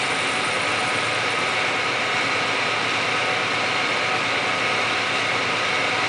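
A Victor toolroom lathe runs steadily at top spindle speed with its power feeds engaged, a constant close, loud mechanical whir and hum that holds unchanged throughout with no pauses or talk.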